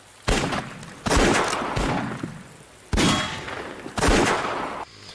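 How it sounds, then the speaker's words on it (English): Sound-designed gunshots from Westworld: four big, loud, booming shots at irregular intervals, each with a sharp metallic crack and a long reverberant tail. "the gunshots are big and out and kind of the main focal point"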